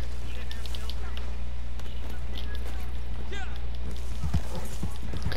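Rapid horse hooves clip-clop in a western video game as the horse runs, steady galloping under game ambience, with a brief neigh and players' voices chatting over it.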